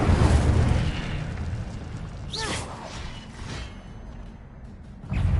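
An Incendio fire spell bursts in Hogwarts Legacy: a loud, rumbling blast with a brief whooshing flare partway through, over continuous game sound and ending in another surge of noise.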